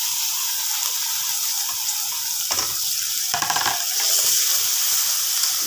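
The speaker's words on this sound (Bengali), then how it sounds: "এই চিংড়ি মাছ দিয়ে দিলাম।" Shrimp frying with turmeric in a pan give a steady, close, loud sizzle and hiss, with a few brief crackling bursts partway through as the pieces are stirred.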